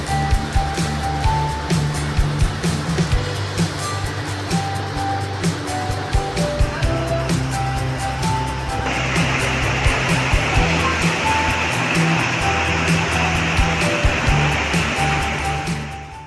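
A waterfall at Pokharbav near Dabhole in Konkan roars steadily, a broad continuous rush of falling water, with a brighter, louder surge in the second half.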